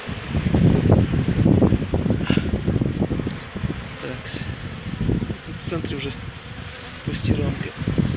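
Buckfast honeybees at an opened hive during a spring inspection after a long overwintering, humming steadily throughout, with someone talking close over the buzzing.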